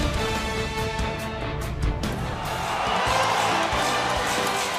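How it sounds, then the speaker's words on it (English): A distant arena crowd at a Raptors versus Washington playoff basketball game roars and cheers in a continuous broad swell, rising slightly toward the end, with broadcast music and commentary-like sound mixed in. "Cheering from afar as the Raptors look to get to round 2"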